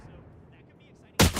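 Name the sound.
gunshot in the Valorant video game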